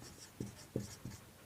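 A maths lesson on Thales' theorem is being written up on a board, heard as three faint, distinct strokes in a quick, even rhythm with no speech.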